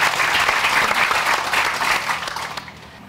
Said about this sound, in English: Round of applause for Gaithersburg.